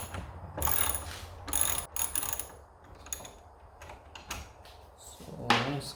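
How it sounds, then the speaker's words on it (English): A ratchet wrench with an 11 mm socket driving screws while reinforcing a broken garage door, heard as several bursts of quick clicking separated by short pauses, close and clear with no talk. "So I use 11 millimeter socket."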